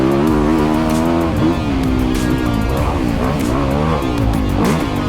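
A 2022 Honda CRF250RX dirt bike engine revs hard and loud up close, its pitch rising and dipping as the rider works the throttle, with no talk.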